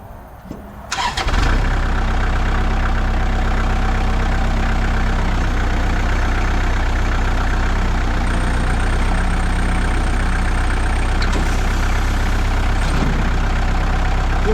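A warmed-up 2002 Kubota MX5000 tractor engine cranks and fires, then settles into a steady, loud, close diesel idle with a constant low rumble that runs unbroken throughout.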